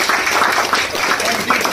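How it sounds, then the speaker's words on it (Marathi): Loud, dense applause from a crowd at a product launch meeting of zonal officers, a continuous rush of clapping with no pauses over the short stretch. "जोरदार टाळ्या।"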